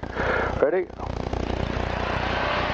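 Light aircraft engine on a crosswind takeoff run with flaps set, a steady buzzing propeller drone that swells after a brief dip and holds loud and even, while a voice speaks briefly over it.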